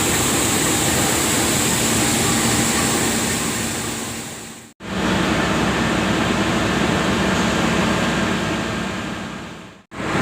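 The Matarmaja economy train from Pasar Senen to Malang, hauled by a CC 201 locomotive, rolls along with a loud, continuous rumble and hiss that drops out briefly twice.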